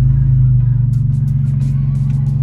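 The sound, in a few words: tuned BMW E46 car engine driving, exhaust rumble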